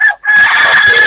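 A rooster crows loudly and close by, one strong sustained cock-a-doodle-doo after a brief opening note, with no talk over it.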